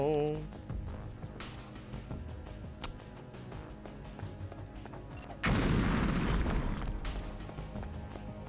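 A single loud, deep blast from high explosives in a video game bursts out midway and rumbles as it fades, following quieter game sounds.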